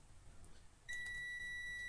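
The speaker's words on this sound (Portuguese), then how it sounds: "Conduziu dando bip, ó." A multimeter on continuity test emits a steady, thin electronic beep that starts abruptly and holds while probing a TIP 105 Darlington transistor, heard close and alone over faint background hiss.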